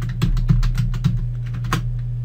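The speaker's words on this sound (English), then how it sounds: "Now just type in your account." Rapid keystrokes on a computer keyboard while entering an email account in Outlook, close and crisp, a steady run of clicks over a constant low hum with no voices.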